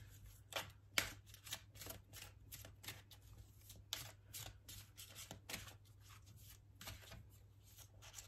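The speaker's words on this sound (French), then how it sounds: "on va faire une petite coupe avec celui-ci aussi" A tarot deck is cut by hand, giving soft, quick card flicks and slaps with a faint, close rustle. The sound is quiet and sits over a low background hum.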